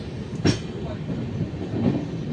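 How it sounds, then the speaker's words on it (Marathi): A train pulling away on the Bor Ghat line near Lonavala, a low rumble with a couple of brief clanks and wheel clatter close by, steady and moderately loud throughout. "और ये हमारी ट्रेन अभी चल पड़ी है"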